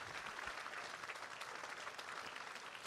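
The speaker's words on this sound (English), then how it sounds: "Give 728 a big round of applause." Quiet applause from a gala crowd, steady clapping heard faintly from a distance.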